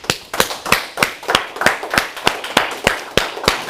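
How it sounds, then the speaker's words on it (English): An audience at a motivational seminar claps in a loud, evenly spaced rhythm. About a dozen sharp, regular beats ring out, each one crisp and close, with no talking between them. "Give yourself a round of applause."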